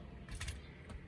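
Keys jingle as the ignition key is pulled from a 2005-2009 Toyota Prius: a couple of quick metallic jangles, close but fairly faint.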